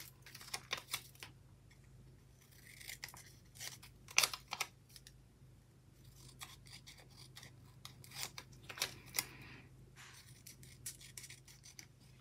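Small scissors snipping the white edge off a paper planner sticker, crisp intermittent cuts and rustles close by in a quiet room with a faint steady hum.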